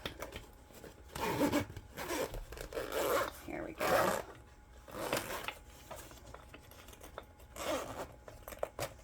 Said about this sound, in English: And go all the way around and then unzip.